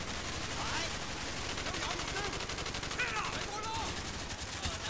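Rapid LMG machine gun fire in the Black Ops campaign, dense sustained bursts of shots, loud and close, with a voice speaking over it.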